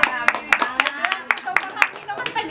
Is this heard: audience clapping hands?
yes